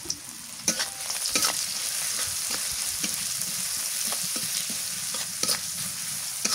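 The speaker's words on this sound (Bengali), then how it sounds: "পেঁয়াজটা আর একটু হালকা করে ভাজা" Onion and bay leaf fry in oil in a pan, a continuous crackling sizzle broken by frequent clattering stirs of a spatula against the metal, close and without talk.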